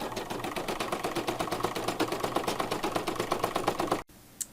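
An embroidery machine sews a satin stitch around a bunny appliqué with a fast, rhythmic mechanical clatter of needle strokes. It stops abruptly near the end, followed by a quiet lull and one small click.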